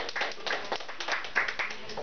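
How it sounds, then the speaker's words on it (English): An audience at a performance in a grad house gives a round of applause, a fairly faint, steady patter of many hands clapping mixed with voices. "Everyone give a round of applause."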